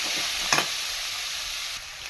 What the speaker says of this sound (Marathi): ढवळून घेऊया.